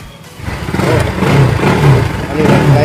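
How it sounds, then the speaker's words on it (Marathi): An NS motorcycle engine runs after a battery fault is sorted, a close, steady mid-pitched throb that swells and pulses slightly. "बाईक चालू झाली, बॅटरीच इश्यू होता म्हणून."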